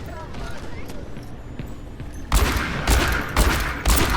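Gunfire from a character's weapon in the video game Overwatch, several sharp loud bursts of shots after a quieter stretch of game ambience and low background sound.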